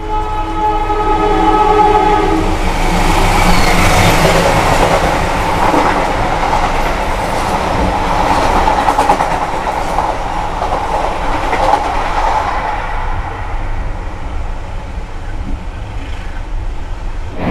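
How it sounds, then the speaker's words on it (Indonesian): A Kahuripan passenger train pulls away from Purwosari station, with a loud, continuous rumble and rail clatter running steadily throughout, with no voices. "Ini kereta api Kauripan yang saya naiki sudah berangkat kembali dari stasiun Purwosari"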